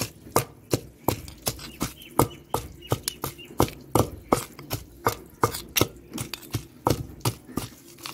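Garlic pounded in a stone mortar for a roasted-brinjal chutney with tamarind: a steady run of sharp, close thuds, roughly two to three per second, each strike loud and distinct, with no voices over it.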